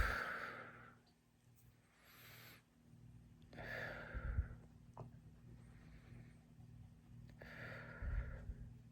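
Deep, slow breaths taken during stretching, three long exhalations spaced a few seconds apart with quieter inhales between, close and soft against a faint background hum.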